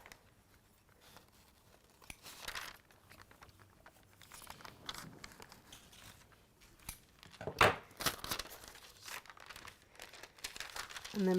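Scissors snip through a sheet of fusible web bonding material, with crisp crinkling cuts and a sharper burst of snipping near the end, close and fairly quiet.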